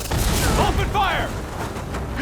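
Gunfire and explosions roar through a Horizon Forbidden West battle as a dense, continuous barrage, with voices talking over the noisy fight throughout.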